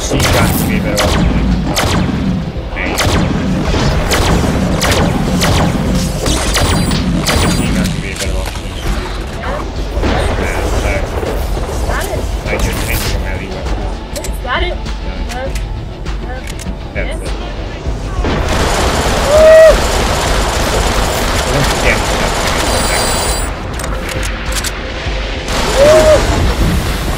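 Gunfire and booming blasts from the Deadpool video game, with dense bursts of shots and thuds running through most of the stretch under ongoing game noise and voices.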